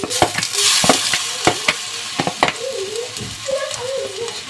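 Ginger garlic paste roasting with onions in a pan for chicken liver fry, a steady sizzle broken by repeated scraping stirs and clinks of a spoon against the pan, with no talking.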